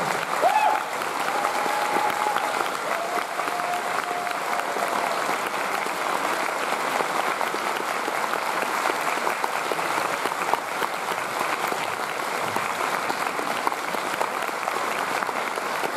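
A festival audience at the closing ceremony of the Etrange Festival gives sustained applause, a dense, even roar of clapping that carries on throughout, with a faint tone near the start.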